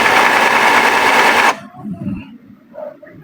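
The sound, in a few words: inkjet printer printing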